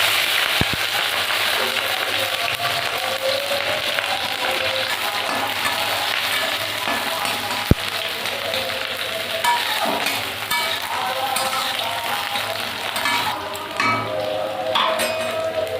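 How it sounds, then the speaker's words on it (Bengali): Dry red chili, mustard seeds, onion and green chili frying in hot oil, a steady loud sizzle with scattered crackles and an occasional sharp tap of a utensil against the pan. "তেলের উপর দিয়ে দেবো একটা শুকনো লঙ্কা সর্ষে পেঁয়াজ আর কাঁচা লঙ্কাটাও দিয়ে দেবো"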